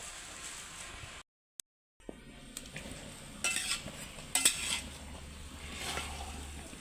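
A thick jackfruit mixture is stirred in a pan, giving soft, close scraping and scuffing strokes against the metal over a quiet background.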